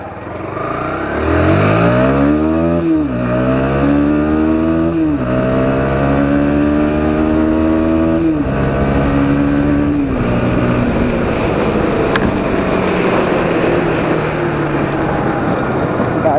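A Bajaj Pulsar NS 160 motorcycle with a 9500 rpm redline accelerates hard through the gears. The engine note is loud and close, climbing in pitch and dropping at each of several shifts before pulling on steadily.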